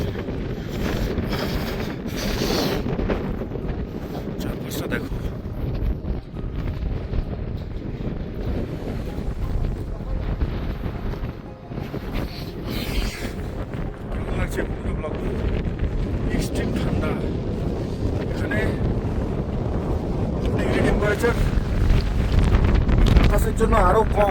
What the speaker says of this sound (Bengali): এখানে হাওয়ার এত তেজ যে স্টোভ চালানো পসিবল নয়